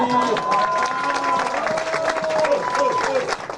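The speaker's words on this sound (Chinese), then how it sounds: "我们热烈的掌声欢迎呐！" Crowd applauding and cheering as party chairman Ko Wen-je arrives to visit the KMT legislative caucus, steady clapping and cheering with busy chatter and voices mixed in throughout.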